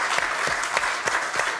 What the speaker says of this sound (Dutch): Ja, applaus natuurlijk voor RB Racing GT Team.